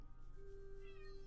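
A cat meows once, a steady sustained call laid over a continuous low background hum, fairly faint and with no talking.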